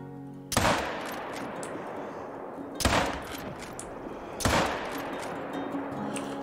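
Three sharp rifle shots in the hunting video game theHunter: Call of the Wild ring out, spaced a couple of seconds apart, each followed by a rolling echo over a steady outdoor ambience.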